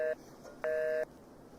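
Telephone ringback tone on an unanswered call: a short tonal beep cut off, then one longer electronic tone after a pause, clear and close with no voices.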